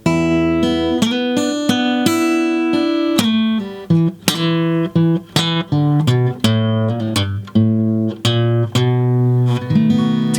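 Blues guitar plays measures 7 and 8 of a solo routine, leading to the five chord: a steady stream of plucked, ringing single notes and short phrases with some sustained tones, played solo and clearly with no talking.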